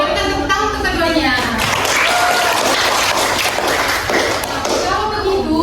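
Students in a classroom clap for two classmates, a short burst of group applause mixed with lively chatter and voices talking over it.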